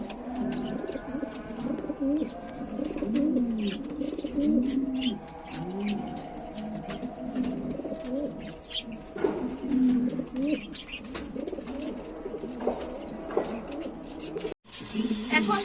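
A pair of Danish pigeons with two eggs cooing: soft, repeated throaty coos close by, steady and continuous, with faint chirps and a quiet voice in the background.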